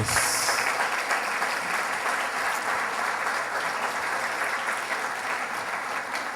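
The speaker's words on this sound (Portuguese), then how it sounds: "Vamos aplaudir o nosso Deus." A church congregation claps together in steady, dense applause, continuous and fairly loud throughout, with no voices standing out.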